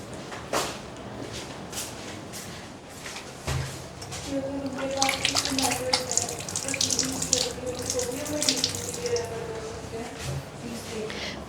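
Water runs from a tap into a sink during hand washing, a steady splashing flow with soft intermittent voices underneath, strongest from around the middle onward.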